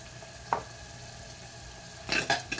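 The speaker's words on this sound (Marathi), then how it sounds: "परत हलवून घ्यायचं आहे असं।" Kolhapuri chicken masala is stirred in a pan, giving a faint background sizzle with a single scrape early on and a cluster of louder scraping, clattering stirs near the end.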